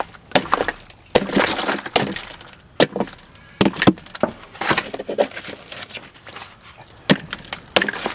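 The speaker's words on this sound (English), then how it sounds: "I first started working on trying to solve this problem by chipping away at the ice with a maul." Sharp, irregular cracks and chips as a heavy maul strikes a block of ice, with brittle splintering between blows, close and loud.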